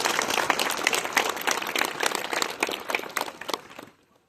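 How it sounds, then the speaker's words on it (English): Audience applause at a school tribute to B. R. Ambedkar honoring a handmade sketch, brisk, close clapping from a room of people that holds steady, then cuts off abruptly into silence. "So give a big round of applause to ma'am."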